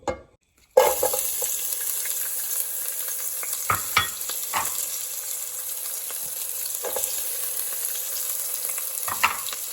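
Onion, garlic, grated ginger and carrots hit hot canola oil after a brief silence, setting off an immediate, continuous crackling sizzle, with a few stirring clicks and no speech.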